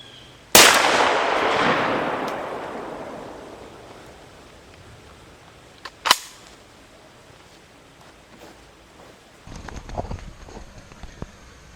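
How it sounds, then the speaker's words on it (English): A single loud shotgun blast of Winchester 2 3/4 inch 9-pellet buckshot, fired outdoors and rolling away in a long echoing decay, followed by a faint distant thump and some light shuffling. "I'm gonna pop this Winchester 2 3/4 9 pellet that I got in here. I'm gonna shoot it at that side."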